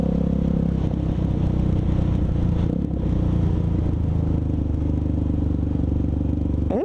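A motorcycle engine sputters and rumbles steadily while being ridden, a loud, continuous low drone with clattering texture and no talk over it.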